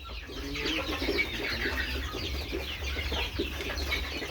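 Chickens cluck continuously in a garden or small farm setting with ducks nearby, a busy flock chattering at close range over a low background rumble.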